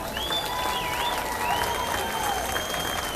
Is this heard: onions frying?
no